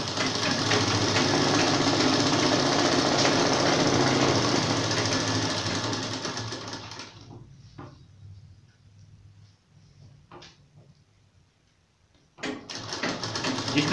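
A sewing machine runs steadily and loudly while stitching a seam of ladies' pajama pants from top to bottom, then stops and gives a couple of short bursts before starting again.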